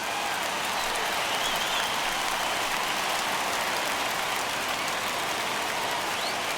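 A baseball stadium crowd in MLB The Show 21 roars and cheers in a dense, steady wash of noise that holds throughout, loud and unbroken, with no distinct voices standing out.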